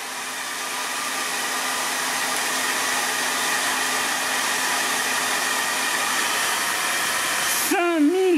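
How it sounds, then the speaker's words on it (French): A hair dryer runs off a solar power station, a steady loud whoosh and whine held for several seconds before the motor cuts out abruptly near the end, leaving a wavering tone. "je vais rajouter un sèche-cheveux"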